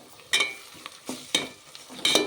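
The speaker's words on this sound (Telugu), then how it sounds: "అల్లం వెల్లుల్లి పేస్ట్ కూడా బాగా పచ్చివాసన పోయేంత వరకు ఫ్రై చేసుకుందాం." Ginger garlic paste fries with onions in a pan, heard as a few short bursts of sizzling and stirring scrapes at close range.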